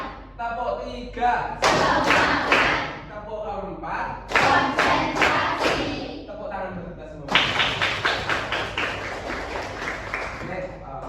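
Group of people clapping hands together in a counted classroom clapping game, sharp bursts of claps in short rhythmic clusters with pauses between rounds, loud and close, with voices in between.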